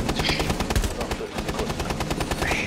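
Rapid automatic gunfire from the tactical shooter Rainbow Six Siege fills the whole stretch as loud, dense bursts of shots, with a voice faintly under the shooting.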